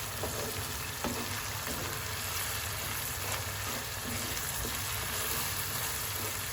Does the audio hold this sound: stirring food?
yes